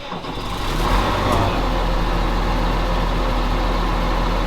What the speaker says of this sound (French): Il démarre comme ça, à froid comme à chaud. En fait, comme il a démarré dans les tout débuts ce tracteur